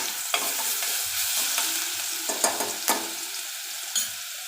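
Turmeric powder, dried chili, bay leaf and garlic paste sizzling and frying in hot oil for a Kathiyawadi curd tikhari, a steady close crackle broken by a few sharp spoon stirs and pops, no voices.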